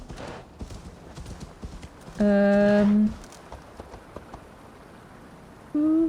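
A horse in the video game Assassin's Creed Valhalla gives steady, moderate hoof clip-clops, with a short tonal whinny-like cry in the middle and another at the end.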